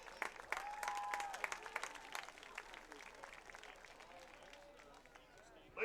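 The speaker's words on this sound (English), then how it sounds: "let's give them all a big round of applause" An audience applauds at a football game ceremony honoring a 1981 championship volleyball team, loud clapping at first that slowly fades under a public-address voice, with a fresh burst at the very end.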